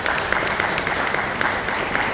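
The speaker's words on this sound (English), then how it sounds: "Round of applause, everyone." Audience applause at a blockchain summit at Howard University, steady clapping from a crowd throughout, moderately distant with no voices on top.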